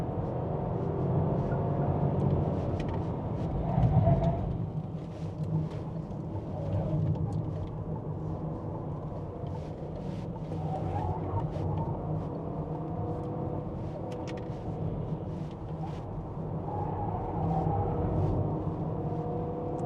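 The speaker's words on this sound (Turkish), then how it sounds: "Şu an tam gaz yaptım. Bak değiştirecek şimdi." Renault Austral full hybrid E-tech 200 hp accelerating at full throttle, a steady muffled engine drone and road rumble heard from inside the cabin, with a slight rise as it shifts.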